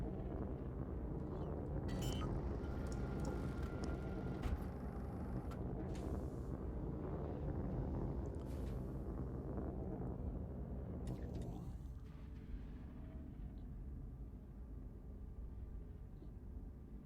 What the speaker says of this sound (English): Deliberately reduce my engine thrust.